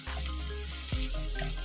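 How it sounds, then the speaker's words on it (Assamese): Pointed gourd frying in a pan until fully cooked, a steady close sizzle throughout with no talking. "আটাইখিনি ভালদৰে ভাজি ল'ম একেবাৰে সিজি যোৱাকৈ"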